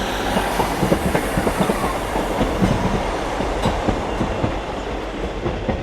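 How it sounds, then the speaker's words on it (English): Northern train service pulling out of Doncaster station on the East Coast Main Line, a loud close rumble with rhythmic clickety-clack of wheels over rail joints, steady and continuous without talk. "Departing now is your 1635 Northern Train service from Sheffield through to Addick"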